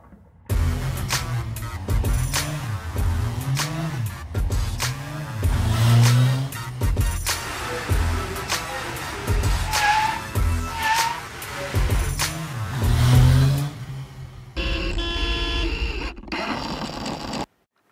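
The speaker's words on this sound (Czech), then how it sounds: "Toto autíčko, poháněné vodíkovým článkem, si dnes už může koupit každý." A small hydrogen fuel-cell powered toy car drives with loud, near, whining motor tones that rise and fall repeatedly, like revving, before cutting to a brief different noise and stopping.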